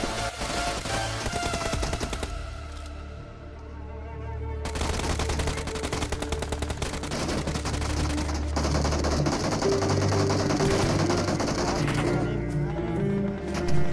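Rapid gunfire bursts in the mobile battle royale game BGMI, sustained and loud across the whole stretch with dense overlapping shots and game sounds, briefly thinning before resuming heavy fire.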